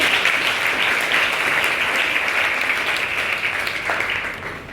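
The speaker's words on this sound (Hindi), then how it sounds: "तो इन बच्चों ने जो प्रयास किया उनके प्रयास के लिए तालियां बजाइएगा।" An audience at an Indian Air Force Day event claps for cadets, producing sustained, dense applause that stays loud throughout before easing slightly near the end.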